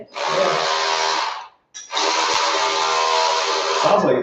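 Handheld power tool driving a gear that skips on a plastic tooth, a harsh buzzing grind running in two stretches separated by a brief stop, close and loud with a ratcheting edge.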